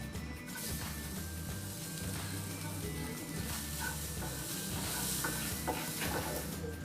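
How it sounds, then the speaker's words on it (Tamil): Grated coconut, cashews and spices dry-roasting in a pan for Chettinad chicken curry, with a steady broadband sizzle and continuous scraping stir strokes throughout, close and fairly loud with no speech. "இப்போ இதெல்லாம் லைட்டாக நம்ம வறுத்து எடுத்துக்கலாம்."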